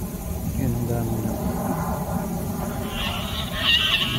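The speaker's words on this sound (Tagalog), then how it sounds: "Sa kabila naman, Ang gansa pala." Geese honk in a park among Peking ducks, a few nasal calls rising near the end over steady outdoor background noise with nearby traffic, while a person talks.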